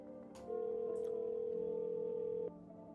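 Telephone dial tone in the phone roulette video game, a single steady electronic hum that switches on, holds at constant loudness for about two seconds, then cuts off cleanly over faint background sounds.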